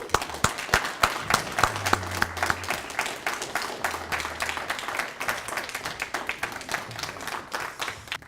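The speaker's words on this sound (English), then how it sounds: "Let's give a round of applause." Audience applause after a speaker is introduced at a Multi-Cultural Heritage Alliance gathering, a dense, steady patter of many hands clapping that continues throughout, with a few scattered sharper claps and low murmurs underneath.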